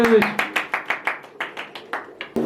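Rhythmic clapping of a few hands at a Harry Potter–themed surprise birthday party after candles are blown out, about a dozen evenly spaced claps, close and fairly loud, with a brief voice at the start.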